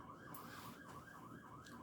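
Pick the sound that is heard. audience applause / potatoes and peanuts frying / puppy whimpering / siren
siren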